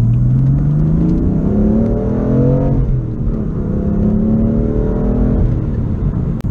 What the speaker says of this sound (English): Now the turbos in this car, they really kick in at a good time.